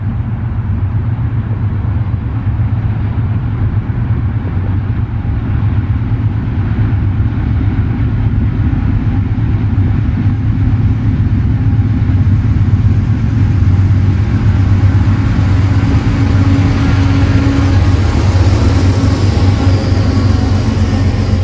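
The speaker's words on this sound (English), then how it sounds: "the second train was a southbound empty ethanol train" A southbound CSX freight train of empty ethanol tank cars rolls past steadily for the whole stretch, with a loud continuous low rumble and wheel roar and no voices.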